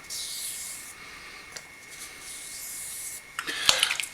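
A straight razor is honed on a Coticule stone, giving soft, hissing scrapes in long strokes, fairly faint and close, ending with a few sharper clicks and rasps.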